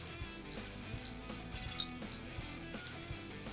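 Repeated ratcheting clicks and gear-like mechanical rattles from a wrench tightening the bolts on a train engine mounting in Train Mechanic Simulator 2017, busy and fairly steady with no talking.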